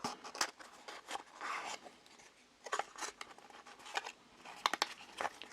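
Crinkling, rubbing and snipping of packaging as a Kakimori dip pen box is opened, a run of brief close scratchy and papery handling noises in irregular bursts, with no talking.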